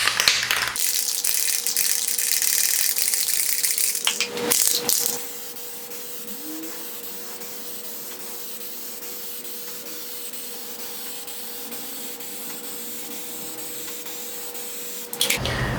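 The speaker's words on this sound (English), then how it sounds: "I'm gonna reshake up the can again, do a second coat" Plasti Dip sprayed from an aerosol can as a second coat in a test on a 1954 Ford truck: a loud, close hiss for about five seconds, then quiet, then a brief burst of spray again at the very end.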